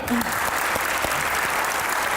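A studio audience at a Pakistani comedy show applauds a legendary poet as he is introduced, a dense, steady burst of clapping filling the whole stretch close and loud.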